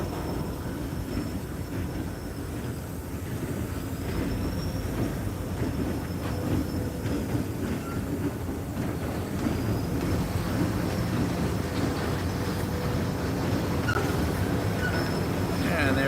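CSX or Norfolk Southern switcher train cars roll past below a clifftop overlook, a faint, steady rumble of wheels on rail with occasional light squeals and wind buffeting.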